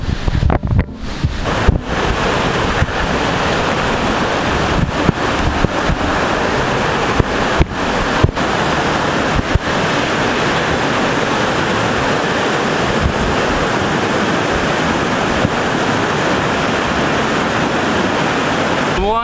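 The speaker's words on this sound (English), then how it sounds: "Kaso masyadong malakas yung alon, delikado." Strong river waves rush and churn continuously at Kirirom National Park, a loud, dense roar of turbulent water with wind buffeting the microphone and occasional sharp knocks.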